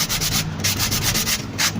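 Rapid, steady rubbing strokes of sandpaper scraping back and forth over an Isuzu truck kingpin, close and fairly loud with no talking.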